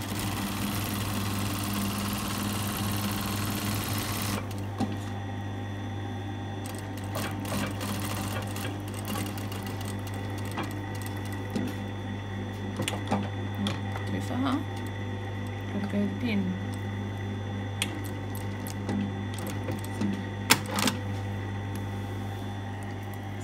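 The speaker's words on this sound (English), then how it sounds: "So you stitch down to that pin." A sewing machine runs steadily, stitching a designer top collar down to a pin, with a constant motor hum throughout and a person talking over it.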